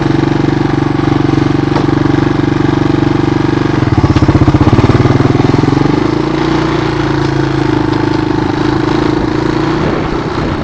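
A 1986 Honda TRX200SX ATV engine idles steadily close by without choke, with a rough, throbbing rumble that shifts pitch briefly partway through, wind noise underneath.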